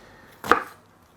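A single crisp knife chop through half an onion on a cutting board, cutting it into chunks; one sharp close thud, then quiet.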